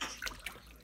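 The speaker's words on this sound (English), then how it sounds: "Oh my goodness, that was a big splash." A 3-month-old baby splashes bath water, with a couple of quick splashes and light trickling close by, while an adult's voice murmurs softly underneath.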